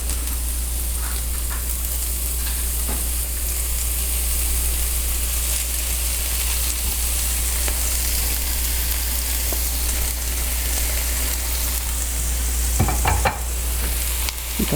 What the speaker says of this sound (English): I'm going to add my spinach,